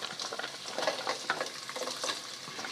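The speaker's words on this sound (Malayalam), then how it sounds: "ഞാൻ 5-6 തേങ്ങ കഷ്ണം അരിഞ്ഞ് ഇടുവാണേ" Coconut pieces frying in hot coconut oil with popped mustard seeds in a pan for beef curry, a close, steady sizzle with crackling spits and stirring scrapes.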